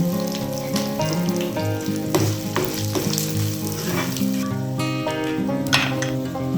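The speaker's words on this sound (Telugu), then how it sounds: "తాలింపు గింజలు, ఇవి చక్కగా గోల్డెన్ కలర్లో వేయగాలి" Tempering seeds, dried red chillies, curry leaves and asafoetida crackle in hot oil for a bottle gourd talimpu, a dense, continuous close sizzle with bursts of popping and stirring throughout.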